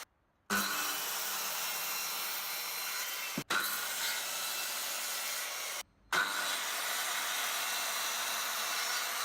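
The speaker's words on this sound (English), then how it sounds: "We can start this project by cut all of the crosscuts for the 90-degree assembly." A power saw makes crosscuts in wood for a 90-degree light fixture assembly, running loud and steady in three long passes separated by brief pauses, with no talking.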